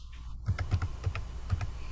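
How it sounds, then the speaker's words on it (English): Someone types on a computer keyboard during a remote Zoom meeting, a quiet, steady run of uneven key clicks heard alone with no talk. "Ms. Hayes, somebody's typing on something."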